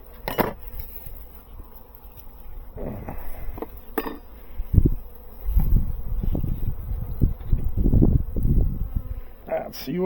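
Honeybees buzzing around a hive as it comes out of winter while a beekeeper works it with a hive tool outdoors in the wind; a steady insect drone sits under clunks of handling, gusts and some muffled voice sounds.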